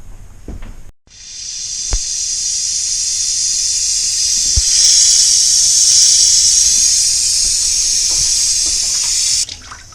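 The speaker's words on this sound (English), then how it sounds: "And we got warm water." Water rushes steadily from a house tap after a new gas water heater is installed, a loud continuous hiss that starts with a click and runs unbroken for nearly nine seconds.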